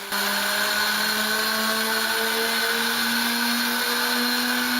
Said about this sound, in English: The Allison V1710 is a type of aircraft engine that has a 28-liter capacity.